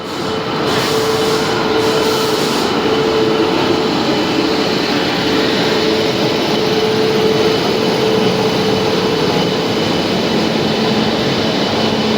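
A steady, loud rumble of a train running continuously, with a low mechanical drone and rattling that stays constant throughout.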